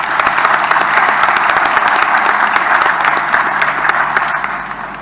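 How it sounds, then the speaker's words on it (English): Dense, loud, sustained applause from an audience at an election results event honouring the former Electoral Commission chairperson, continuous throughout and tapering slightly at the end. "I think we should take a minute and give an applause."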